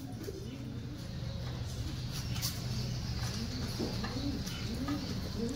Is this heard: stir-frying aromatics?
no